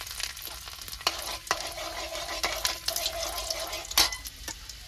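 Garlic frying in oil for egg bhurji while being stirred, a continuous close sizzle with sharp scraping clicks of the spoon against the pan at irregular intervals.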